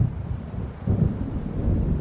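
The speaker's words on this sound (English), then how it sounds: "It seems there's a storm coming." Approaching thunderstorm in the Alan Wake video game, heard as a low rolling rumble that swells louder after the first second and stays steady, with no voices.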